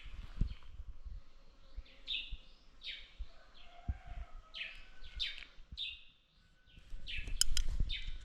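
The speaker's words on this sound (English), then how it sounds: "The birds in the air." Birds chirp and tweet in quick repeated bursts at early morning in an African village, several calls close by and clear, with a faint insect buzz and a few soft knocks underneath.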